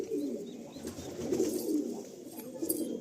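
Madrasi Malwai pigeons coo softly in repeated low, throaty phrases, close by and alone without voices.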